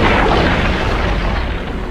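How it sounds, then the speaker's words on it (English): Heavy booms of enemy fire explode in a continuous, dense roar during an aerial battle in the Halo Infinite video game, loud and close with no gaps. "We are under fire."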